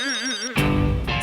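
An electronic phone ringtone warbles for about half a second, then a brighter, busier ring pattern follows, loud and close with no voices.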